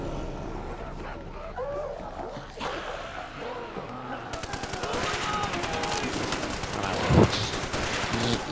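Rapid automatic gunfire from the MG Forte 2 machine gun in the Nazi Zombies game, a dense stream of shots that grows louder and steadier in the second half under ongoing voices.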